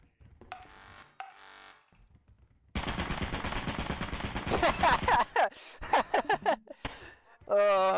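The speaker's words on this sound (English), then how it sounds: "There's a turret." An automated turret in the video game Lethal Company opens fire with sustained rapid bursts of machine-gun shots, loud and close, after a few quieter game sounds and followed by chirpy electronic tones.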